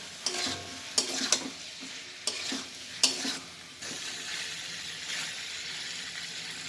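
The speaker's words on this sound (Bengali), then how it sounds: "সেটা আমি দিয়ে দেবো কষানোর সময়, দিয়ে নাড়াচাড়া করে ভালো করে কষবো।" Steamed cauliflower being stirred and sautéed in a pan, a steady sizzle broken by several sharp scraping strokes of the spoon in the first half, then an even, close frying hiss.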